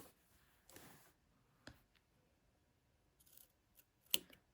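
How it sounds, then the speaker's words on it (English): Fabric scissors snip a garment sleeve, cutting into corners at a stitched placket; a few soft, brief snips and crisp clicks sound close by in a quiet room. "you just have to cut through the sleeve"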